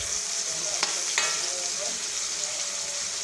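Onions fry in a pan with a steady, bright sizzle, broken by a few scraping stirs, close and continuous with little else over it.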